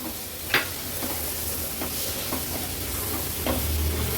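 Dry coconut paste and tomatoes sautéing together in a pan for a Maharashtrian Agri Koli veg thali, a continuous soft sizzle punctuated by a few sharp spatula scrapes and taps, with no talk.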